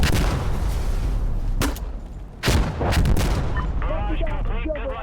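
Heavy artillery shells pound in Insurgency Sandstorm, loud booming impacts landing in quick succession with rumbling aftershocks, followed by scattered crackling debris and distant chatter.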